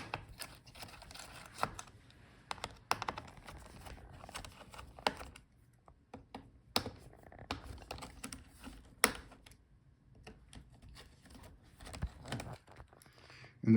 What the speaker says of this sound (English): Unscrew the screws.